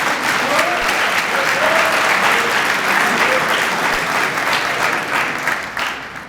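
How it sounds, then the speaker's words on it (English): A banquet-hall audience at a university student-athlete awards dinner applauds steadily for several seconds, dense clapping that fades slightly at the end. "Why don't we give a round of applause for all of our outstanding student athletes."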